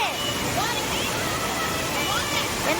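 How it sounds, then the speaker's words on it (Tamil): Steady rush of a waterfall at Thiruparappu Falls in Kerala, a broad continuous roar with splashing, heard close and loud throughout with no pauses. "இந்த அருவி சூப்பராக இருக்குல்ல"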